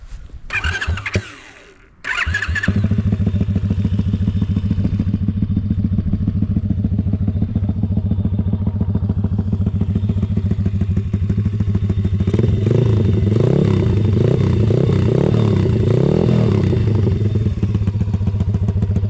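A small Honda ATC 70 engine cranks with a few sputters, then catches and settles into a steady, loud idle, revving up with rising and falling pitch toward the end.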